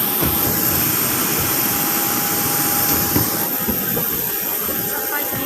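Jet engines of a Lion Air Boeing 737-900ER roar steadily while passengers board, a constant broad whine and rumble with faint voices and clatter beneath.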